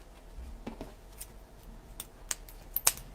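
Scissors snip ribbon tails for a rustic winter snowman wreath, several crisp separate cuts spaced irregularly against a quiet room, close and fairly faint.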